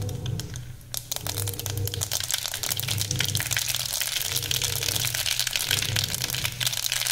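Mustard seeds spluttering in hot oil for a plum and date chutney, a dense continuous crackle of tiny pops over a low frying hiss, close and steady throughout.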